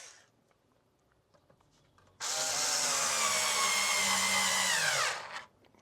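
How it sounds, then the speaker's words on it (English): A cone drill bores a hole while making a bespoke mount for a Jaguar XK8 smart screen, a close, loud whirring grind lasting about three seconds after a quiet lead-in, then winding down. "Even a cone drill starts that beautifully."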